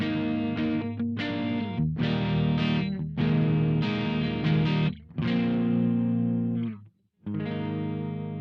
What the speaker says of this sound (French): j'ai ajusté le canal crunch pour être aux limites du clean et de la distorsion.